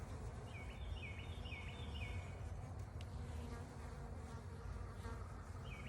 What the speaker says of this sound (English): We got bees clinging to bees.